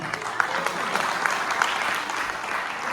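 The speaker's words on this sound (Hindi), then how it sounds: "तो सबसे पहले आप सब अपने लिए ताली बजाइए।" Audience applause at a Hindi kavi sammelan poetry gathering in Abu Dhabi, a steady wash of many hands clapping with a few sharper claps standing out, moderately loud and continuous throughout.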